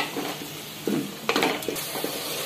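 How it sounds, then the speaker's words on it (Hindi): Yogurt being stirred into masala frying in a pan, with soft scraping strokes and a few clinks of the spoon over a steady background sizzle, close and fairly loud, no speech. "और दही को मिक्स कर लेंगे अच्छे से मसाला में, और इसको दो मिनट तक फ्राई होने देंगे।"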